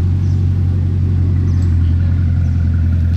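A Bugatti Chiron on a Monaco street rumbles as it pulls away, a loud, steady low engine drone close by with no talk.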